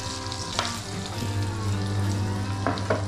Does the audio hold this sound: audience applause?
no